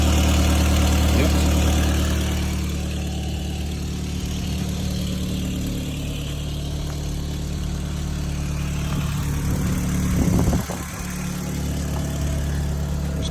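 An Audi TT with a stainless steel downpipe idles on cold start, a steady low engine drone with a brief rise and dip near the end.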